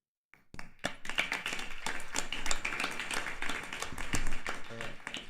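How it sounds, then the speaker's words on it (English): Warm applause from a congregation following a token-of-appreciation presentation at a Krishna Mandir Sunday temple service, starting abruptly and continuing steadily for several seconds with scattered individual claps standing out. "Give him a round of applause."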